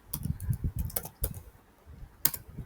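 Rapid bursts of keystrokes on a computer keyboard while coding in Python, irregular clusters of close, crisp clicks with brief pauses between runs.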